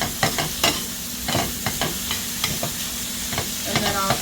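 Onions cook in a pan with a soft steady sizzle, broken by frequent scraping and tapping as a utensil stirs them, close and fairly quiet.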